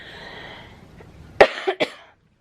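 A few short, dry coughs close to the microphone, three quick bursts in a row after a moment of quiet background hiss.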